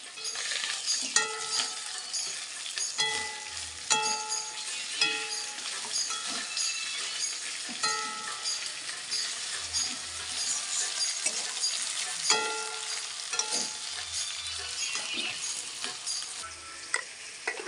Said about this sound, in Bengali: ভেজে নিচ্ছি। এবার আমি উচ্ছে দিচ্ছি।